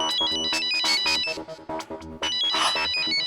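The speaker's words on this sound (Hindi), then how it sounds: "ममता आंटी का फोन है।" A mobile phone rings for an incoming call, its electronic ringtone melody playing loud and continuous, with repeated bright tonal phrases and no talk over it.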